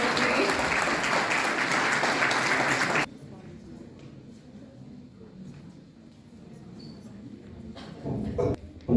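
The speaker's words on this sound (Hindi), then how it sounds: "तालियों के साथ स्वागत करें" A hall full of people claps in welcome at a college seminar, dense applause for about three seconds that then stops abruptly, leaving quiet room noise and faint talk.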